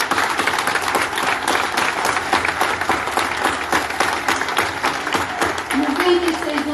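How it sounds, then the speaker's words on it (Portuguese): A dinner crowd at a Portuguese political Jantar de Reis in Vizela applauds loudly and continuously, a thick wash of clapping with voices mixed in and a few scattered cheers near the end. "mais uma salva de palmas para ele"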